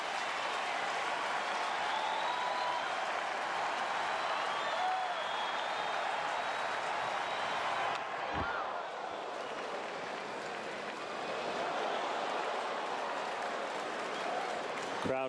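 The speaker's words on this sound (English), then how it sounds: "Crowd oohing and eyeing as they see the pitch speed readout on the video board" Baseball crowd at a Marlins at Cubs game reacting to a 102 mph pitch speed readout, a broad sustained roar of many voices that eases for a moment before swelling again, with commentary voices mixed in.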